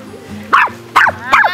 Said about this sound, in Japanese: 誰吠えてたの